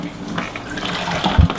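An iPhone 7 is lifted out of river water with close, bubbling splashes and sloshing that ends in a heavier low gurgle as it comes free.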